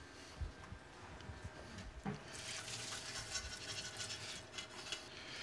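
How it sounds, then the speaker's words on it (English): Cooked mung beans rinsed under a running cold tap, a steady hiss of flowing water with faint scraping and rubbing of the beans, continuous and close for the whole span. "Run that under cold water."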